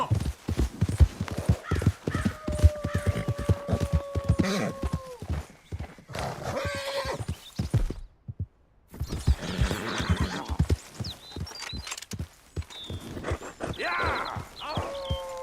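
Hooves clip-clop in a fast, steady rhythm as a horse is ridden in Red Dead Redemption 2, with whinnies and snorts breaking through, a short pause, then the gallop resuming alongside game sounds.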